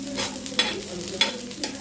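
Green chillies frying in a pan with ginger and garlic for a mushroom masala, a steady soft sizzle broken by a few sharp spoon scrapes and clinks, no voices.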